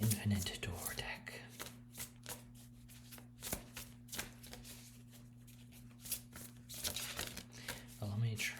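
Infinite Door tarot-style card deck being shuffled by hand, soft repeated riffling and flicking bursts, close and quiet, under a low steady hum.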